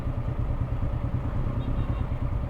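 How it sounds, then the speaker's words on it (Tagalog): Hero Xoom 110 scooter engine starting and settling into a steady, close idle with a rhythmic low throb, started by holding the brake and twisting the throttle. "itong Hero Zoom 110 kailangan mo pang i-press yung brake then piitin mo yung throttle para mag-start siya"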